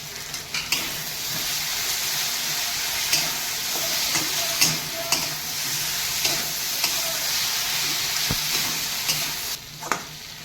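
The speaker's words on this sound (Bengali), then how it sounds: "এবার আমার এই বাটা মশলাগুলো দেব এই জিরে মরিচ লঙ্কা গোলমরিচ আর একটু ধনে গুঁড়ো দিয়ে" Ground cumin, chili, black pepper and coriander paste fries in a pan with shrimp and okra, giving a steady close sizzle broken by occasional scrapes and stirring clicks, with no voices.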